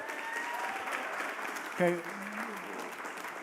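A city council meeting audience applauds in a steady, moderate burst that fills the room, with a brief spoken word partway through.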